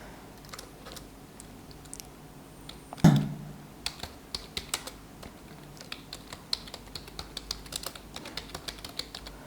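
Someone types a C printf statement on a computer keyboard, producing a quick run of close, crisp key clicks after one louder knock, with no voices.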